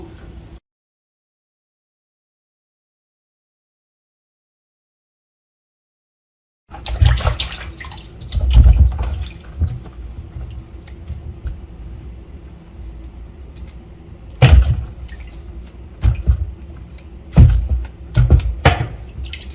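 After a silent stretch, water runs steadily with splashing and a few louder knocks and clatters as fruits and vegetables are rinsed.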